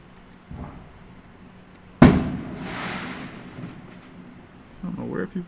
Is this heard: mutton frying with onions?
no